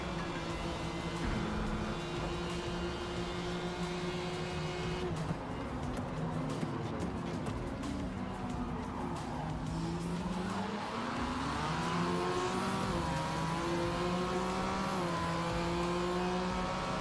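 A BMW race car in the Forza racing video game roars continuously, its engine pitch climbing and falling through gear changes with brief tire squeals, loud and steady throughout without talk.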